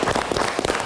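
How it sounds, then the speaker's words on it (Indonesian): An audience applauds Raymond Chin on a live Indonesian evening talk show: a brief, dense burst of clapping, close and fairly loud, with no talk over it. "Tepuk tangan untuk Raymond Chin."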